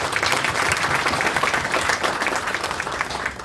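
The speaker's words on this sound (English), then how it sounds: "I reckon give them another round of applause just for" Sustained, dense applause from a crowd at a business community event honouring local clubs, loud and even throughout with no talk over it.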